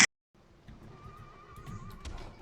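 A horse whinnies faintly in the middle distance, a wavering cry lasting about a second, set against steady outdoor rumble and rustling with a sharp click at the very start.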